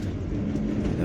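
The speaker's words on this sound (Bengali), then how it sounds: "ট্রেন যাচ্ছে আবার" A local train rolls past on a bridge over the Kathajodi River near Cuttack, a steady low rumble of wheels and cars holding even loudness throughout with no talk.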